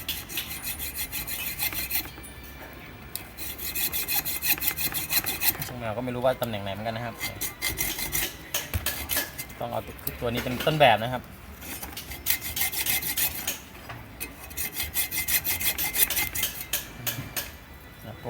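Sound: flat screwdriver working on a fan motor

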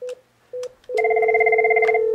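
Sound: office desk phone ringing during call transfer

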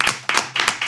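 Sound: clapping

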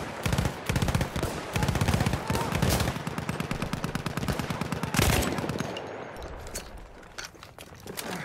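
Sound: gunfire in the Battlefield 1 video game

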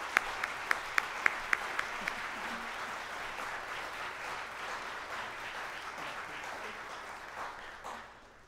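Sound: applause

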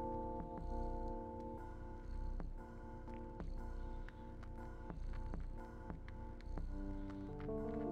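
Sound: cat purring while napping, from the video game Stray

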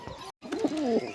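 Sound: pigeons cooing

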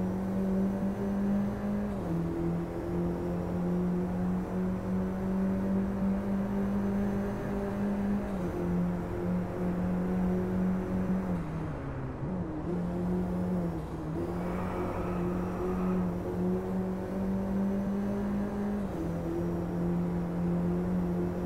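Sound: Mini Cooper JCW GP engine roar in Driveclub video game

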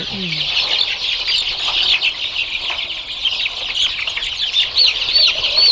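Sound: one-month-old chickens (chicks) on a poultry farm

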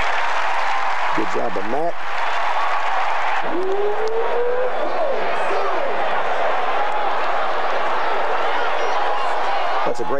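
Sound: football stadium crowd cheering

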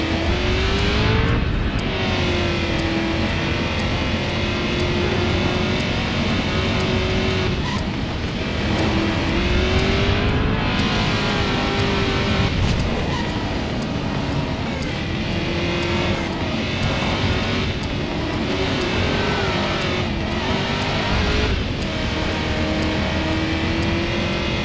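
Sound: car accelerating in the video game Driver: San Francisco

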